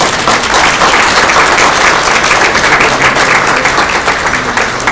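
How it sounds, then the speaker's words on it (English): Loud, full audience applause fills a luncheon gathering honoring Dr. Salk, a thick, continuous clatter of many hands that holds steady for several seconds before easing slightly near the end. "Let's have a round of applause."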